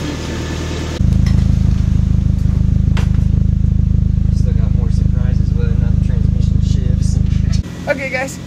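A freshly built car engine starts on its first run in a garage, settling into a loud, steady idle for several seconds before shutting off, while people talk over it.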